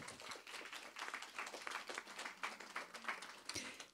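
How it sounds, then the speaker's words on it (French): A conference audience at a colloquium on living and working with cancer breaks into applause, a faint, dense patter of many hands clapping steadily for about four seconds, heard from a distance. "je crois qu'on peut applaudir là"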